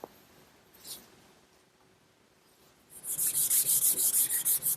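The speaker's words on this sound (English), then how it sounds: "I've sanded the entire case with some 320 grit wet dry sandpaper" Steady rhythmic sanding strokes with 320 grit wet dry sandpaper, a rapid series of scratchy back-and-forth rubs on an oak case, close and moderately loud after a quiet start.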